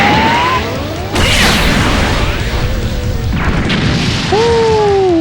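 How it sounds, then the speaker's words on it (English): A Gigantic Nova attack in the fighting game Dragon Ball Xenoverse 2 erupts in heavy, loud booming explosions with crashing impacts and sweeping whooshing tones, continuous and dense across the whole stretch. "So let's use Gigantic Nova."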